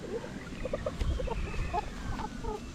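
Kelso gamecock stag about six months old clucks in short, soft bursts outdoors amid steady background noise, with a few scattered calls and no talk.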